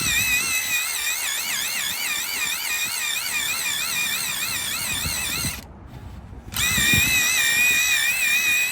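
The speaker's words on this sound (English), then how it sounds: "I'm then going to grab my drill brush once again" A high, warbling whine of a spinning drill brush scrubbing a car mat runs steadily with a brief pause, over scrubbing noise, loud and close.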